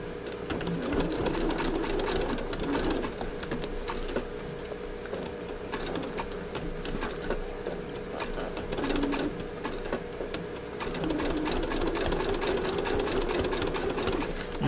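A sewing machine runs steadily, stitching down a handle on a fabric-covered rope coil lid for a lidded bowl, its continuous whirring hum lasting throughout at close range with a few faint background sounds.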